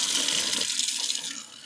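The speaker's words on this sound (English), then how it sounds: "let's wash it out with cold water until it runs clear." Cold tap water runs steadily over hand-dyed yarn from a Rit Dye and Lion Brand kit, a continuous hissing rush at close range with no speech.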